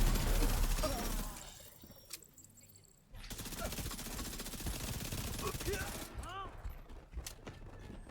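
Submachine gun fire rattles in The Division 2 shooter, rapid bursts split by a short lull, then sustained fire under the game's ambient noise.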